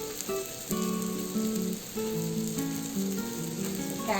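Vegetables with chili powder and salt frying in a pan for cabbage and pea curry, a steady close sizzle with brief stirring scrapes and crackles, no talking.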